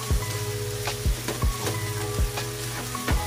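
Ground beef cooks in a hot pan with a constant close sizzle, punctuated by repeated scraping strokes of a spatula moving the meat around every half second to second.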